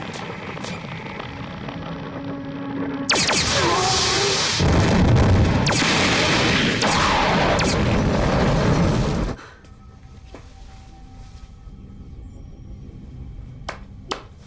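A sudden loud blast erupts, followed by heavy roaring booms that continue for several seconds before cutting off to a quieter background.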